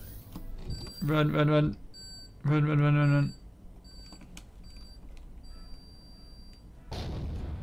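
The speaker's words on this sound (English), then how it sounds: "We have 8 seconds before these things explode." Explosions in the video game Empyrion: Galactic Survival follow two loud, harsh tonal alarm bursts, and a final rough blast arrives near the end amid quieter game sounds.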